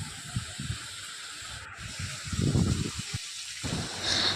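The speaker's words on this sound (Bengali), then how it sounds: "আলুগুলো হালকাভাবে নেড়ে চেড়ে কিন্তু ভেজে নেব" Potato pieces frying in hot oil give a steady sizzling hiss with soft crackles and occasional louder bursts, heard close up.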